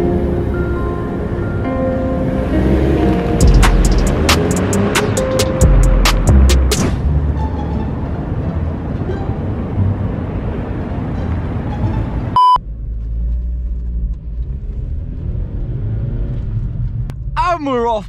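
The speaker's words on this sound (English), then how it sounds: "let's hop in the car and let's just drive around, and also let's go on the motorway" Vauxhall Corsa driving at night, a steady low engine and road rumble inside the cabin with a string of rapid beeps partway through, a brief break, then continued rumble with some chirping near the end.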